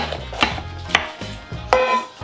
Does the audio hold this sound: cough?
no